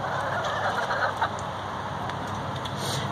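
Chickens cluck in a garden, a steady background of fowl calls with a possible distant crow, heard alone at a moderate, fairly constant level.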